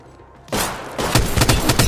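Loud, close automatic gunfire from the Apex Legends video game, starting abruptly as a dense burst and continuing as rapid repeated shots with sharp individual cracks.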